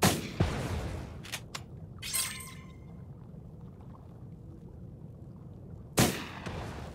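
Shots fired at explosives in the Oceanhorn 2 video game, a few sharp separate cracks and thuds spread across the clip over a low steady background, with a louder burst near the end.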